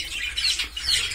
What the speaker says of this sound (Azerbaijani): Yaxşıdırlar cücələrimiz.